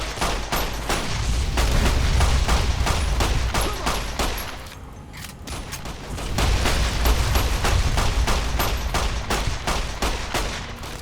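Rapid gunfire in Fallout: New Vegas, dense loud bursts of shots rattling continuously, pausing briefly midway before resuming with sustained fire.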